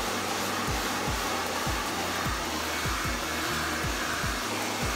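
A hair dryer blows steadily and loudly close by while hair is restyled at home during a salon-style blowout, its airflow joined by a repeated low rhythmic thumping, with no voices.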